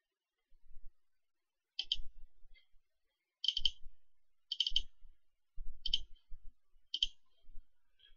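A computer mouse clicks in a quiet room, five crisp, sharp clicks spaced roughly a second apart, close and distinct with silence between them.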